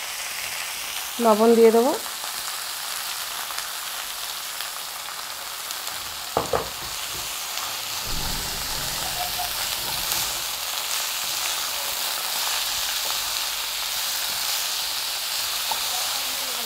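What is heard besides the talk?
chickpea greens frying and sizzling in a pan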